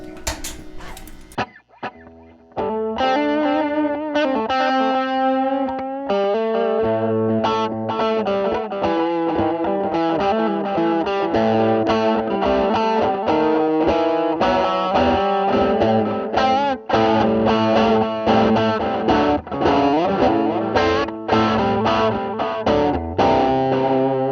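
Electric guitar through a Boss DD-8 delay pedal, a sustained chordal passage with repeating echoes trailing each note, warm and continuous, played loud and close with no voice.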